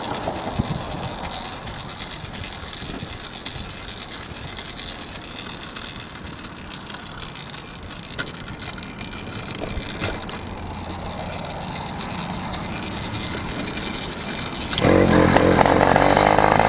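A buzzing, rattly rebuilt two-stroke motorcycle engine runs steadily and close, growing louder near the end as it revs up.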